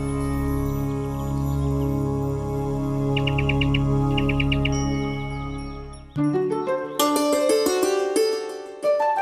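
Cartoon birds chirp and tweet in bright, tinkling bursts over a sustained musical backdrop, then a sparkling run of chime-like notes takes over near the end.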